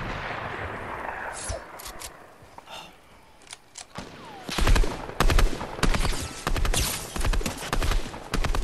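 Sniper and other gunfire in Fortnite, sharp shots and clustered bursts growing louder and denser in the second half, with no talk.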